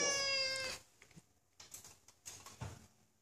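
A cat meows in a kitchen where freshly baked cinnamon rolls have just come out of the oven: one clear, close, drawn-out meow, then a few soft, faint shuffling sounds.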